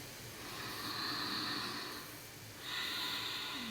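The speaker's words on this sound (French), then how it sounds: "Soit une respiration normale, soit la respiration Ujjayi." Slow Ujjayi yoga breathing drawn in and out through the nose, a soft hissing breath sound in two long waves, close and alone at a steady low volume.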